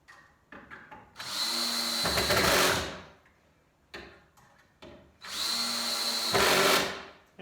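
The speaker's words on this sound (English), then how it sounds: "that stripping that sound at the end is my clutch in my drill." A power drill whirs in two bursts, each ending in a ratcheting, clicking grind as the worn clutch slips and strips.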